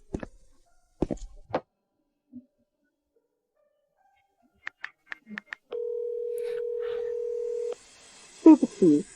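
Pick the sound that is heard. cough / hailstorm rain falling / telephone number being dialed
telephone number being dialed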